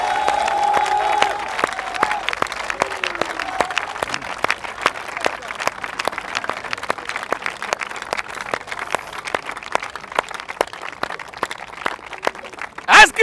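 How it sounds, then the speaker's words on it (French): A large crowd at a Christian gathering applauds for a sustained stretch with dense rhythmic clapping and scattered cheers, beginning under a voice and fading slightly toward the end. "On acclame le Seigneur Jésus-Christ."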